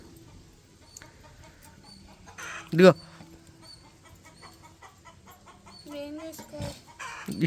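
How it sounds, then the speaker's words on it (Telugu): A neighbour's rooster crows and clucks in a home setting, short sharp calls standing out near the middle and end, mixed with people talking nearby and small household noises. "మా కోడి అరుస్తూ ఉంటే భలే అనిపిస్తుందిలే పక్కింట్లో కోడి"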